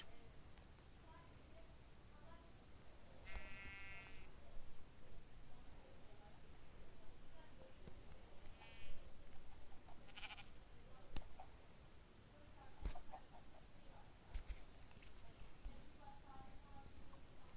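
A few sheep bleat at scattered moments in a Minecraft-style video game, bright and slightly synthetic, over a low steady background hum.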